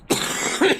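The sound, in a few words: cough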